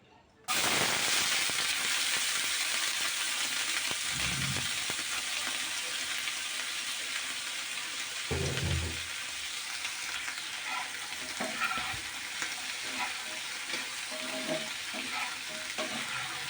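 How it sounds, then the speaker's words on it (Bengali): Vegetables fried in oil in a wok (kadai), a loud steady sizzle throughout with occasional scraping stirs and brief bursts of crackling, with no talking. "এখন কড়াইতে এসে সবজিগুলো একটু তেল দিয়ে আমি ভেজে নেব।"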